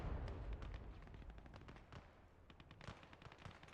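Rapid bursts of small-arms and machine-gun fire from the WWII video game Gates of Hell: Ostfront during a tournament PvP battle, dense overlapping shots with heavier booms early, steady and loud throughout.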